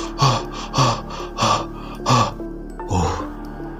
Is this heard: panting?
yes